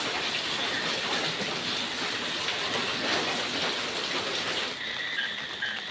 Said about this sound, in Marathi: पाऊस पडतोय ना बाहेर, पाऊस.